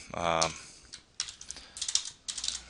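Keystrokes on a computer keyboard tapping in quick irregular bursts, close and fairly quiet, with a brief voice at the start.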